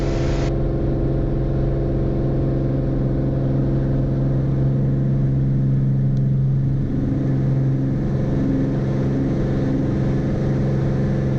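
A light aircraft engine at takeoff power during the takeoff roll and climb-out, a loud, steady droning hum that holds unbroken from start to finish.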